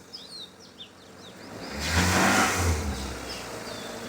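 A car engine turns over and revs up loudly, then settles back, with small birds chirping in the background before and after.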